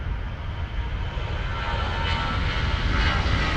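A Lufthansa jet airliner on flight LH452 to Los Angeles takes off from Munich, a loud, continuous roaring engine rumble with broadband hiss that builds slightly as the aircraft climbs nearby.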